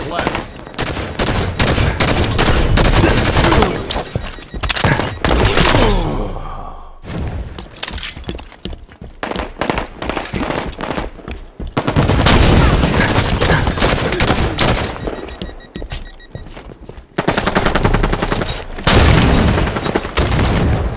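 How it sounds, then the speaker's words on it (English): Rapid bursts of gunfire, sharp cracks and a booming grenade blast fill a Halo 5: Guardians capture-the-flag multiplayer match, loud and dense, with a brief lull before the firing resumes. "Throwing grenade!"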